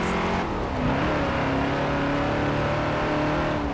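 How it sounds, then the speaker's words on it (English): A 1973 Ford XB Falcon GT V8 in Forza Horizon 4 revs hard and holds a loud, steady roar close up, with rising pitch as it accelerates and no voices over it. "Enjoying the sound of the engine there."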